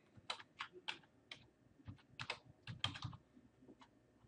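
Computer keyboard typing in quick clustered bursts of crisp key clicks, close but quiet, with short pauses between groups and no talk.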